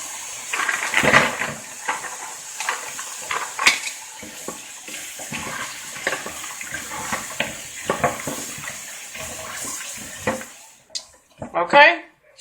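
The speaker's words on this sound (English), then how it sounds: "Okay, shrimps are rinsed off." Frozen raw, deveined shrimp rinsed under a running tap in a strainer, with steady water spray, clinks of dishes and pans, and a few louder knocks near the end.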